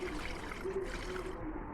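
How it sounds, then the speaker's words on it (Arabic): Reserved pasta cooking water pours into a white sauce in a pan, a steady, close liquid stream with a soft gurgle, continuous and fairly quiet for under two seconds. "فاحنا حاجزين ميه السلق بتاعه المكرونه، هنبدا نزود بيها بالشكل ده"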